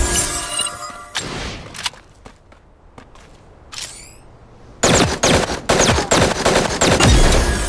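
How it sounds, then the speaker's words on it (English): Bursts of gunfire in Super Mecha Champions, sharp rapid shots in scattered clusters, quieter in the middle then a loud dense volley of shots toward the end. "I hear gunfire. Keep your eyes sharp."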